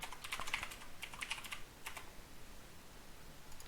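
Light, quick keystrokes tap on a computer keyboard in short bursts while an email address is typed, very faint and close, trailing off into quiet room noise.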